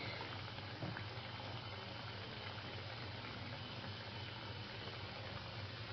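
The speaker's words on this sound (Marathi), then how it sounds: "म्हणून कमी पॉवरवर बालुशाही तळायची." A steady, quiet bubbling hiss of balushahi frying gently in oil on low heat, continuous and even throughout with no voices.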